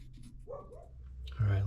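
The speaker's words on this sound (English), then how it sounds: "Dog says hello." A dog gives a short whimpering yip followed by a sudden loud bark at the end, close by in a workshop, with some background murmur around it.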